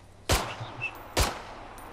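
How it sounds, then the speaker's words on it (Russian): Two sharp gunshots in the zombie survival video game Contagion, each a loud crack with a short decaying tail, spaced about a second apart over a quiet background. "Вы мой выстрел слышите?"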